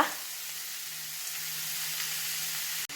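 Squid roast sizzles steadily in a pan as it is stirred, a continuous close frying hiss with no talking, ending in a brief soft clatter near the close.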